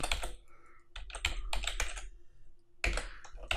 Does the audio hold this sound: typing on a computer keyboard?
yes